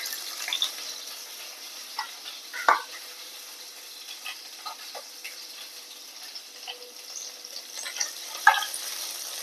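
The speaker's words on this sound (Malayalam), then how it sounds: "നമുക്കിതിലേക്ക് ഇഞ്ചി ഇട്ട് കൊടുക്കുക പച്ചമുളക് ഇട്ട് കൊടുക്കുക" Ginger and green chili fry in a pan with a low, soft sizzle, broken by a few sharp clatters and scrapes of utensils.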